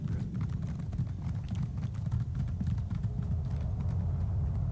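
Galloping horse hooves while riding in Elder Scrolls Online, a fast, steady clip-clop rhythm heard up close and continuously over a dense low rumble of game ambience.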